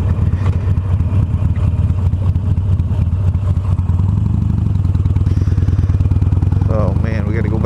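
Harley-Davidson Iron 883 cruising on the road, a steady low V-twin rumble with wind noise, loud and close, rising in pitch near the end as the rider accelerates; someone talks over the engine.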